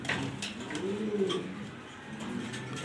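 A female pigeon at a pigeon exhibition coos in a low, throaty burble, one rolling call swelling mid-clip over a steady background hum, fairly close.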